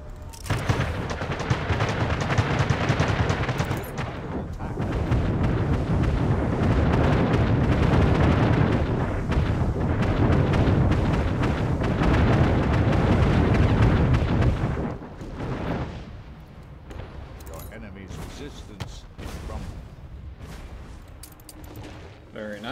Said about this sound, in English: And we may fire when ready.